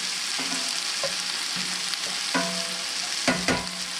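Seasoned, lightly crusted chicken sizzles steadily in a pan with a bright, continuous fry hiss, broken by a few sharp clinks and scrapes of stirring, close up with no talking.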